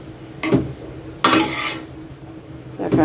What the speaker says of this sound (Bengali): নাড়া চাড়া দিয়ে রেখে দিব